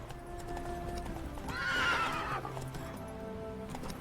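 Roach, a horse in The Witcher 3, moving at pace with rhythmic hoof clip-clop and a loud whinny in the middle, set against steady background game music.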